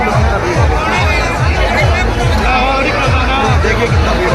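Thick babble of a packed crowd at the Nagra fair during Navratri, countless voices blending into a constant, loud murmur with nearby chatter and footsteps rising out of it.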